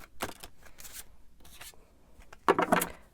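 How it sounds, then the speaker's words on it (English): Tarot cards being shuffled by hand: several soft, papery riffling bursts in short separated bouts, close and fairly quiet, with no talking. "I'm going to shuffle a little bit more."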